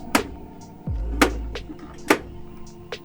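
Sharp plastic clicks from a Thrustmaster T300 racing wheel repeat at a steady pace about once per second, with a low mechanical thump and hum running underneath.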